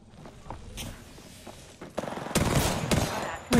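Gunfire in Apex Legends builds from scattered distant shots into heavy, rapid bursts of automatic fire up close, ending in a loud final volley.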